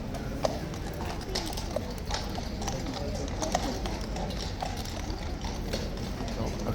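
Horse hooves clip-clop steadily on pavement at Horse Guards in London amid a busy crowd murmur, with a continuous wash of background noise and occasional sharper knocks.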